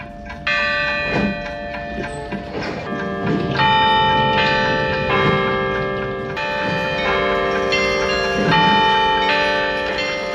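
Grande Carrilhão carillon at the Puy du Fou theme park, a rich ringing of many tuned bells playing a melody, sustained overlapping tones with struck accents, loud and continuous throughout.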